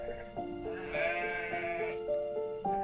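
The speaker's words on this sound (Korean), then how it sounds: "양떼와 소떼의 울음소리를 들으면서" Sheep bleat repeatedly in a story sound effect, several wavering, nasal calls overlapping at a moderate distance over a soft background, with no speech over them.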